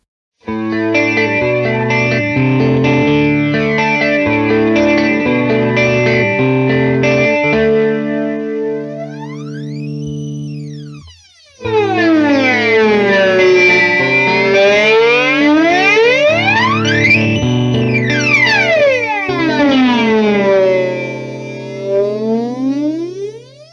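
Electric guitar chords run through a Death By Audio Disturbance modulation pedal at extreme intensity, the pitch swooping and warbling dramatically up and down in wide, siren-like sweeps.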